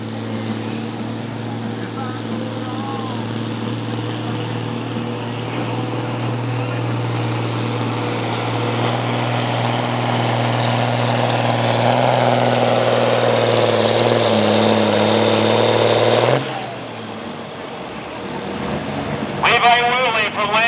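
A modified John Deere 4440 pulling tractor, pushing upwards of 600 horsepower, drones with a loud steady engine roar that builds gradually before cutting off abruptly near the end, leaving quieter background noise; mostly continuous and fairly close.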